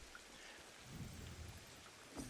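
Steady rain hisses in the wild setting of the game Ancestors: The Humankind Odyssey, a faint continuous wash with soft low rumbles like distant thunder.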